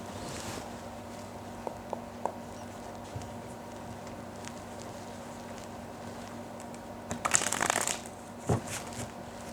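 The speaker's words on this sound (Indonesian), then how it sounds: "ketika aku shuffle kartu ini" Tarot cards being shuffled during a love reading: a soft, steady rustle under a faint background hiss, then a brisk, louder riffle of cards near the end, followed by a few short flicks.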